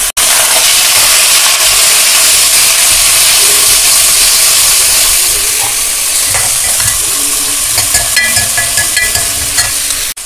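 Medium-sized pumpkin pieces land in a hot oiled pan and fry with a loud, steady sizzle that settles slightly, followed by scraping stirring sounds near the end.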